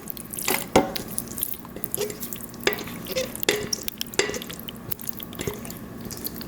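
Liquid pouring and splashing into a pan for a green bean casserole with bacon, with sizzling and scattered clinks of a utensil stirring, close and fairly busy throughout.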